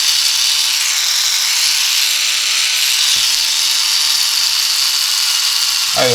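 Small 3-volt DC motor running alone at steady speed, a loud constant high-pitched whir with a faint hum beneath, ending in a brief click.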